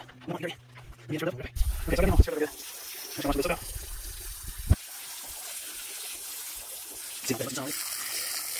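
Running water rinses egg wash off a tanned animal fur, a steady soft gush that continues alone for several seconds after a person speaks briefly at the start.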